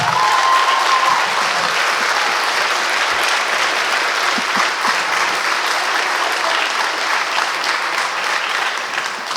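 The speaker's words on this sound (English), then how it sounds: "I so rarely get that type of applause." An audience at an award ceremony honoring a prosecutor claps loudly and continuously, dense sustained applause that tapers only slightly toward the end.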